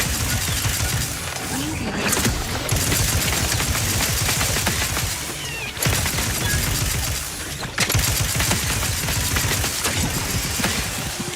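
Sustained rapid gunfire in The Outer Worlds 2 rattles on almost without pause, loud and close, with dense automatic bursts broken by only brief gaps.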